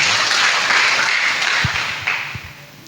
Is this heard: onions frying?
no